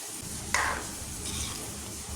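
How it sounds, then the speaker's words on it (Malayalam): Ground spice paste stirred into simmering chicken curry in a pot, a soft steady wet scraping with a brief brighter clink near the start, close and continuous with no talking. "ഇനി അരച്ച് വെച്ചിരിക്കുന്ന കൂട്ട് ഇതിലേക്ക് മിക്സ് ചെയ്യുക"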